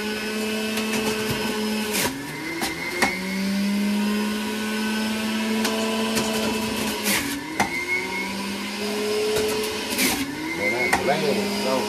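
A juicer blade whirs steadily at close range while making green juice, its motor pitch shifting up and down with several clicks and knocks, and someone talks over it.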